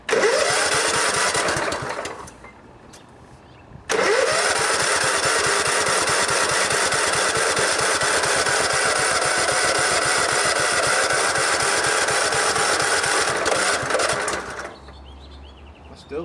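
A long-unused old lawn tractor engine cranks and fires, runs briefly, drops to a lull, then restarts and holds a loud, steady, close chugging run for about ten seconds before cutting off.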